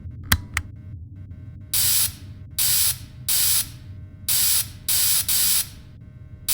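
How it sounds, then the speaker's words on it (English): Cleaning spray hisses onto an animatronic suit in the game Fredbear and Friends: Left to Rot, six short bursts in an uneven rhythm, loud and close against a low background hum. "So go ahead and start spraying the suit, making sure that no electronics were left inside of the suit after removal."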